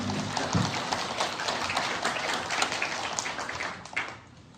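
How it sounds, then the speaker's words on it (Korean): A church congregation applauds together during a worship service, a dense patter of many hands clapping at steady loudness before fading out near the end. "영광의 박수 올려드립니다."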